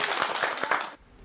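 A gathering of church members breaks into brief, lively clapping, a handful of distinct claps over a second before stopping abruptly into near quiet.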